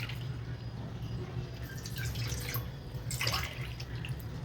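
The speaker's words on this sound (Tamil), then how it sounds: "2 கப்பு தண்ணி ஊற்றிக்கிறேன்" Water is poured into a cooking pot, a soft close trickle and splash rising in short bursts, quiet with a low background hum and no talk.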